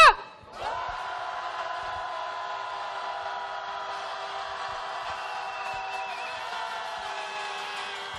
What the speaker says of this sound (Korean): 함성 한 번 더 질러보겠습니다. 함성 시작!